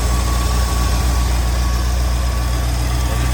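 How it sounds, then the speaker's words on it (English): A 1984 Chevrolet Corvette C4 V8 idles steadily up close, a smooth continuous low rumble with a faint constant whine, holding level for a few seconds with no voices. "Engine burns nice and smooth."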